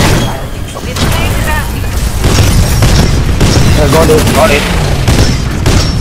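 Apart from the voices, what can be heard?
gunfire from a video game, Bounty Hunt Exoplanet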